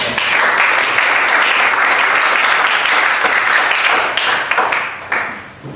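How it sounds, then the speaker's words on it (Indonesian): A classroom of students applauds after group presentations, dense even clapping sustained for several seconds before tapering off with a few last claps. "Tepuk tangan untuk semuanya."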